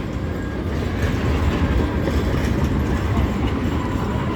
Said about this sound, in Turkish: Tramvay geliyor. Tramvayımızı da gösterelim.